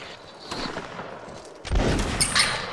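Volley of musket fire in Mount & Blade: Warband Napoleonic Wars line battle, a dense burst of overlapping shots swelling loud after a quieter opening, with more cracks following.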